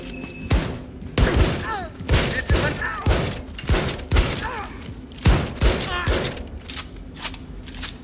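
Weapon fire in Wolfenstein II: The New Colossus, heard as a rapid run of loud, close shots in uneven bursts with metallic mechanical clicks between them, continuing for several seconds.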